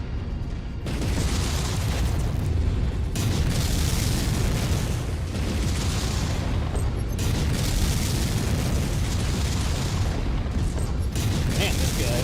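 A mech blowing up in MechWarrior 5 combat, a sustained, loud, rumbling blast texture lasting several seconds amid ongoing battle noise, with someone talking over it.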